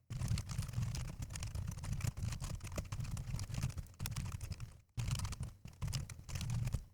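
Steady run of keyboard typing while Python code for a k-means clustering function is written, dense irregular keystrokes close up and moderately loud, with one brief pause near the end and no talking.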